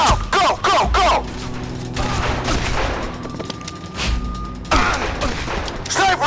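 Sniper and small-arms gunfire in the game Mademan, loud sharp shots in quick bursts at the start and end, with scattered crashes and a brief tonal whine in the middle.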